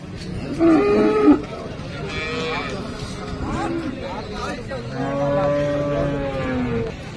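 Jersey cross cows at a cattle market give long, drawn-out moos, one loud and near at the start and more lowing later, under steady background bustle, with people talking nearby.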